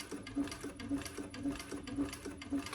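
A sewing machine stitches slowly through a cork tote, each close, regular mechanical thump arriving about every half second in a quiet room.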